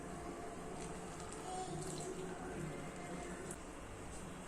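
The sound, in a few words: water being poured into murukku dough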